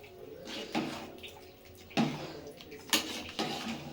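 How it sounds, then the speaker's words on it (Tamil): A spoon scrapes and clanks against a pot while chicken biryani rice is stirred, with several distinct metallic knocks over soft wet shuffling, fairly quiet and close. "கிளறி விட்டுக்கலாம்."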